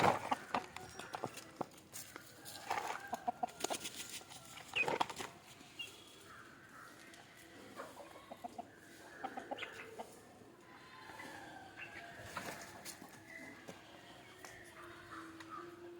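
Country chickens cluck and call in a busy outdoor yard at evening feeding, with a few louder squawks near the start and birds chattering steadily throughout.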